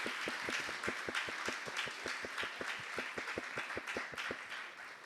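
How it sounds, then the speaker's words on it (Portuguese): Congregation applauding at the close of a church service, with a steady, rhythmic clapping of many hands and a couple of loud near claps standing out through a continuous crowd clatter. "Aplauda Jesus, que Ele merece."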